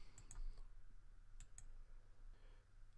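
Two quick pairs of soft, close mouse clicks on a computer during a site survey software demo, the double clicks evenly spaced over a faint steady room hum.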